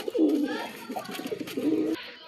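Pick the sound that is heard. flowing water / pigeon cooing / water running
pigeon cooing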